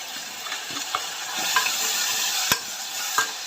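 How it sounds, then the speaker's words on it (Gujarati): Vegetables sizzle in hot oil in a pan for khichdi as a spoon stirs them, steady frying hiss broken by a few sharp scrapes and taps against the pan, close up. "બધા વેજીટેબલ નાખી દઈશું"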